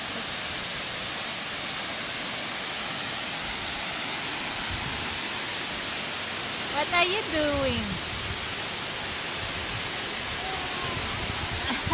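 Waterfalls at Stony Brook, New York pour out a steady, full rushing roar without pause, with a person's voice briefly speaking over the wash of water.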